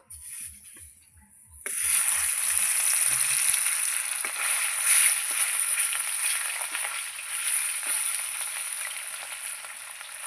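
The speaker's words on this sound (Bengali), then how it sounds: "তেল আমি খুব ভালো করে গরম করে নিয়েছি। এবার মাছ ভেজে নেব।" Katla fish pieces hit hot oil in a kadai with a sudden burst, then settle into a loud, continuous, close-up sizzle and crackle that runs on steadily with no voices.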